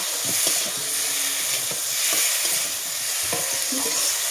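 Potatoes, eggplant and tomatoes fry in a pan with a steady sizzle while a spoon stirs and scrapes them, the clinks and scrapes coming in irregular bursts over the continuous hiss.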